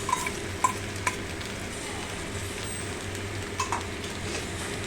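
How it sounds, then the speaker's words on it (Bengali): Beaten egg sizzles gently on a hot tawa, a steady low crackle broken by a few sharp clinks of a utensil, heard close up with no talking. "এবার দিয়ে দিচ্ছি একটা ডিমকে ফেটিয়ে, এই তাওয়াতেই আমি দিয়ে দিলাম"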